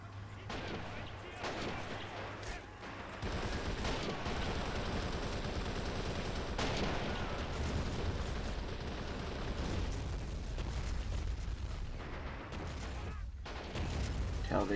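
In the World War II strategy game Men of War: Assault Squad 2, a battle rages with continuous dense gunfire, machine-gun bursts and heavy artillery blasts in a loud, sustained roar.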